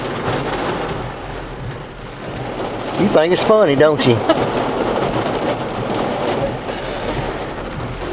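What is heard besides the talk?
heavy rain pouring down on truck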